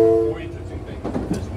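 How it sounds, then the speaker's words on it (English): Inside the front cab of a new Kawasaki M9 Long Island Rail Road commuter train, a steady rumbling run with a brief horn-like tone at the start, with voices talking over the motion. "This is the new train built by Kawasaki, made in Yonkers and Kobe, Japan."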